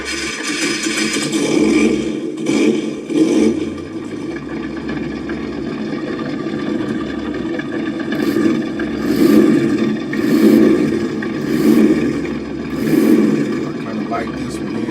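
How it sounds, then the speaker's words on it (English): The ESS Dual sound module in an RC4WD Chevrolet K5 Blazer plays a simulated engine rumble that idles and revs in repeated swells, with a voice talking over it. "So this gonna be the first engine sound here."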